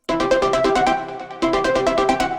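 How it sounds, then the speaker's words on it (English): A cinematic dubstep lead melody rings out over rapid pulsing synth stabs, loud and bright, pausing briefly midway before the phrase restarts. "And of course we have the lead melody, which is going to sound like this."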